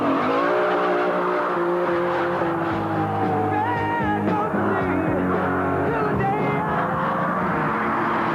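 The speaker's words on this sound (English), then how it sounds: "demonstrate just how fast the Diablo accelerates" A Lamborghini Diablo V12 accelerates hard around the Castle Combe racetrack in Wiltshire, its engine roaring loud and close, with a sustained rising drone and tyre noise filling the whole stretch.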